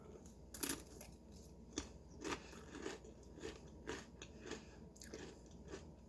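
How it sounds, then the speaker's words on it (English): Someone bites into a corn tortilla chip loaded with guacamole and chews, close and quiet, a sharp crunch early on followed by a series of softer irregular crunches spread across several seconds. "I am going to take a good healthy chunk, and let's see how this tastes"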